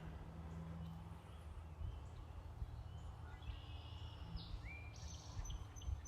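A common wetland bird sings its whistled 'drink your tea' call, faint and distant, with a few short high phrases rising over a steady low outdoor rumble.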